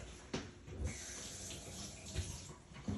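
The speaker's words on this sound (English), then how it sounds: "Let me rinse my hand." Tap water runs steadily into a kitchen sink while a hand is rinsed, a soft continuous splashing hiss with a few small bumps, fairly faint and with no talking.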